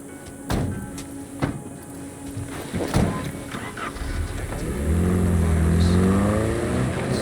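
A car in Cyberpunk 2077 starts up with a few knocks and clunks, then its engine rises into a steady, close revving growl that builds and holds, with a faint voice at the start.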